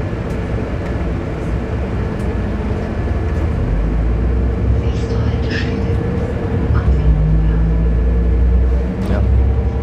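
Urbino 15 city bus engine heard from inside while rounding a curve in Potsdam, a steady loud rumble that swells slightly partway through, with someone talking over it.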